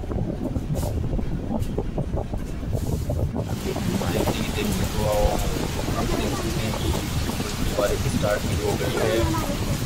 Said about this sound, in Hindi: बारिश के साथ साथ हवाएं भी चल रही हैं।